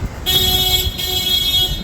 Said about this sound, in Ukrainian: Що ви сигналі?